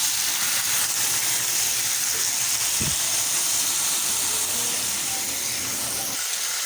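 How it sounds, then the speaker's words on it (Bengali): Water poured onto spices frying in a pan gives a steady broadband hiss and sizzle that holds through the clip. The spices are turmeric, chili and coriander powders with garlic, cumin and ginger paste. "মশলা কষানোর জন্য দিয়ে দিচ্ছি পানি"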